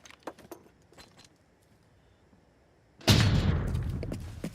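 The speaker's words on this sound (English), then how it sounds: "I'm gonna throw a stun grenade upstairs and run inside." A stun grenade in a video game: light clinks and metallic rattles, then a sudden loud blast that settles into a rumbling, noisy tail.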